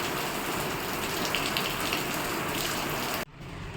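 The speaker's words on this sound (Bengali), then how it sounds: "এই যে মুসল আর বৃষ্টি হচ্ছে" Heavy monsoon rain pours down outdoors, a dense, continuous loud wash of noise that cuts off abruptly near the end, with no talking.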